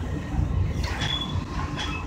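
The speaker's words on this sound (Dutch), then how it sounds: "Ik zit nu in de trein naar Utrecht." Inside a moving train bound for Utrecht, a constant low rumble of wheels and carriage fills the space, with faint high squeals rising briefly over the steady drone.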